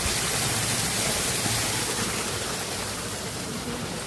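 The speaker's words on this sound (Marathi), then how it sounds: "नासिडी पॅलेसला जाताना लागतं, वरून पाणी येते" Clean water falling steadily from above beside the path to the Nasrid Palace in Granada, a continuous broadband rushing wash, loud and close with no voices.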